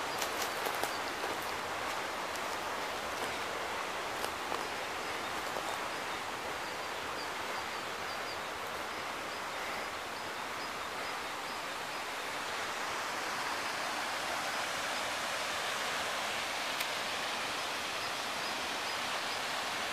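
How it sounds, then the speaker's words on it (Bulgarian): A waterfall on a hillside gives off a continuous broad rushing roar of falling water, steady and fairly distant, with no voices over it. "Ето го водопада."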